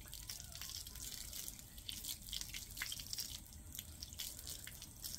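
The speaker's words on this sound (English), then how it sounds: "I just typically just run my hose along it" Water from a garden hose runs over a surface in a faint, continuous splashing trickle with irregular drips and spatters, quiet and close, with no talking.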